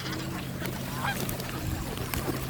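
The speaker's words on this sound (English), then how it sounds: "Oh my goodness, they're crazy birds." Geese honk at a marina, several short, close, harsh calls overlapping in a busy cluster over a steady low background hum, with no talk.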